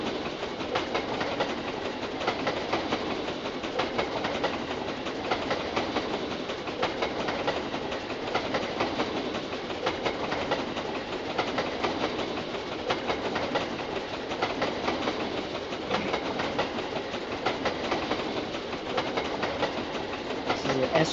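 S160 consolidation steam locomotive running in the Trainz2 train simulator game, a continuous steady rumble with rhythmic rail clatter, even and unchanging throughout, with talk faintly underneath.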